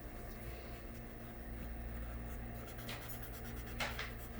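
A pencil sketches lip lines and creases on paper, a soft close scratching that swells briefly near the end over a steady low room hum.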